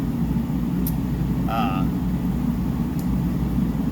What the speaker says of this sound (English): I got the heater running. I'm sure you can hear that.